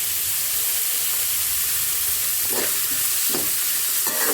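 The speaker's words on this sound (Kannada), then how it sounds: "ಕ್ಯಾರೆಟ್ ಸ್ವಲ್ಪ ಹಸಿ ವಾಸನೆ ಹೋಗೋವರೆಗೂ ಸ್ವಲ್ಪ ಫ್ರೈ ಆಗಲಿ ಎಣ್ಣೆಯಲ್ಲಿ" Carrots frying in oil in a pan for a vermicelli dish, with a steady sizzle throughout and a few scraping stirs of the spoon toward the end, no voices.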